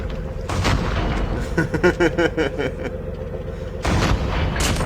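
Tank cannon and gunfire in Call of Duty: Mobile tank battle gameplay: heavy booms open and close the stretch, with a rapid series of shots and a constant loud rumble of battle between them.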